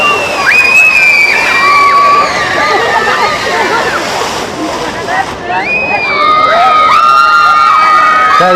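Riders on an amusement ride in Tashkent shout and cheer loudly in waves, high screams rising over a constant crowd roar with splashing water beneath.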